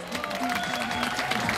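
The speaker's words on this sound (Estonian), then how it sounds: "aplaus teie poolt!" Audience applause at an FIA Historic rally prize-giving ceremony in Estonia, a steady dense wash of clapping from a crowd, moderately loud and continuous for the whole moment.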